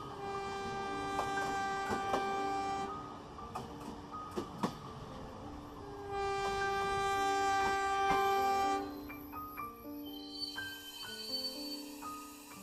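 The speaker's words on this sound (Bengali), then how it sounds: "ট্রেন এলো।" A train pulls into a station, a sustained rumbling passage with strong tonal horn or whistle notes and sharp clanks, fading and swelling over several seconds with no talk.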